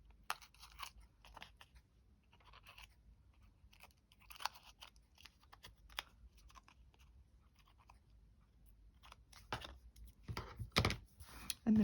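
Scissors cutting round paper for a junk journal, soft intermittent snips and rustles at close range, quiet overall with a louder cluster of cuts and paper handling toward the end.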